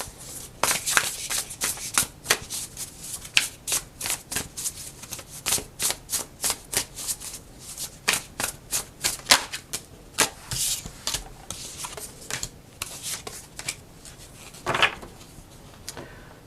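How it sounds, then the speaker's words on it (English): Tarot cards are shuffled in a rapid series of crisp riffling bursts and taps, close and fairly quiet, repeating irregularly across the stretch. "we're going to start off and pull a few cards"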